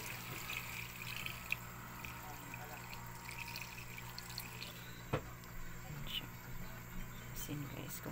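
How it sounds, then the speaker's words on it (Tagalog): Water pours into a cooking pot for a lunch of hongta with chili leaves and moringa, a steady faint splashing trickle in a home kitchen with a sharp clink partway through. "Tubig."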